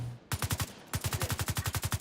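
Rapid automatic gunfire from a long-range sniper rifle with a 31-round magazine in The Division 2, two loud close bursts of evenly spaced shots split by a short pause.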